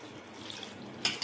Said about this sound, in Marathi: छान 2 पाण्याने धुवून घेणार आहे भाजी